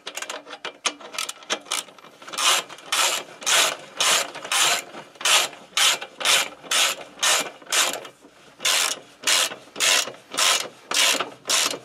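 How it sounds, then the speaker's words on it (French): A ratchet wrench clicks in steady bursts as a rear wheel axle nut is tightened after a brake disc and pad swap, each stroke a loud, close rasping run of pawl clicks repeating about every second with brief pauses between. "Donc, je serre la roue gentiment,"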